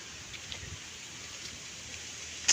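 Light rain falls steadily outside a house, a soft, continuous hiss at low volume with no other sounds standing out.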